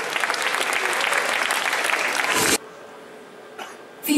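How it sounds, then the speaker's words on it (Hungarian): Loud, dense audience applause at a Hungarian spring anime convention craftsmanship cosplay contest, greeting an individual contestant; steady clapping for about two and a half seconds, then cutting off abruptly to quiet. "Nagy tapsot neki!"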